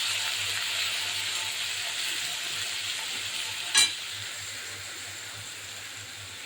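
Potatoes fry in a pan for jhinge aloo posto, a ridge gourd, potato and poppy seed dish, giving a steady, close sizzling hiss throughout, with one brief clatter of stirring midway.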